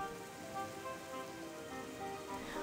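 Steady rain falls in a soft, even patter with no voices, a continuous hiss of drops on a surface at moderate volume.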